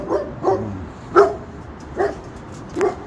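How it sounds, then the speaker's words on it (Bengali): A dog at a residential housing complex barks in short bursts, about five sharp barks spaced irregularly, fairly close and clear against quiet background. "কুকুরের আওয়াজ শুনতেছেন।"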